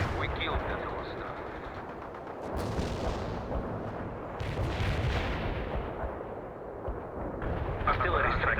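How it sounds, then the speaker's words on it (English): A continuous artillery barrage in the video game World in Conflict, with heavy rolling booms and gunfire layered densely for several seconds, loud and sustained, while radio-style voice lines play over it. "Artillery strike on the way. Commencing the barrage."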